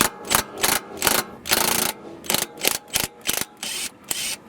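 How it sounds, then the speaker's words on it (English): Impact gun with a 12mm socket on the brake line bolt of a 2002-2006 Acura RSX, loud close hammering bursts repeating in short rhythmic pulses, about a dozen in quick succession. "impact gun in this case works perfectly if it's an older vehicle"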